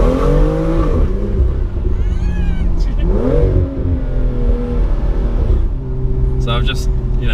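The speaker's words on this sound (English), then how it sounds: "the exhaust from the outside just sounds brilliant" A BMW engine revs and climbs through the gears, its exhaust note rising and falling loudly while a person talks over it.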